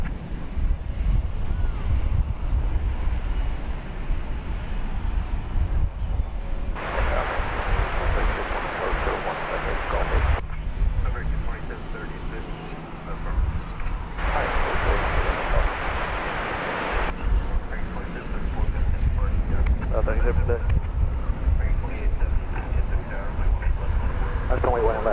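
A Boeing 737-800 takes off at night from DFW airport, a loud, broad engine roar with a deep rumble and wind-like rush that rises and falls, with people talking over it.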